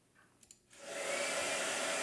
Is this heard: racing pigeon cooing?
no